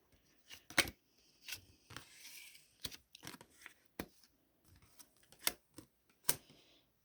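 Tarot cards drawn and laid out for a cross spread, giving sharp, scattered card snaps, flicks and soft slides on a surface, close and quiet with pauses between placements.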